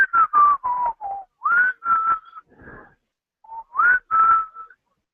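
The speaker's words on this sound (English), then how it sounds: "Now he's whistling that." A person whistles a short tune in separate bright phrases, some notes sliding up or down, with brief pauses between, close and clear.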